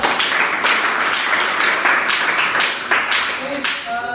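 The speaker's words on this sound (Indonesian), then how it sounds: "Tepuk tangan untuk kelompok 1." Applause for a group of students in a classroom lesson: a burst of many hands clapping that lasts about four seconds, with voices mixed in.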